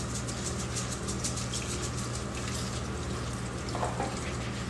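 Food frying in oil, a steady, even sizzle and crackle that runs unbroken and fairly faint, with no talk over it.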